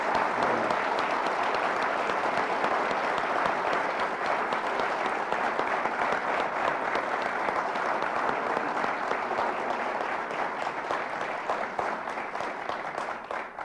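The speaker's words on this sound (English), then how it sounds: "I'd like to ask you to join with me in applauding our 3 guests today" An audience at Western Michigan University applauds its three guests with a dense, continuous round of clapping that stays loud and steady for over thirteen seconds, tapering only at the very end.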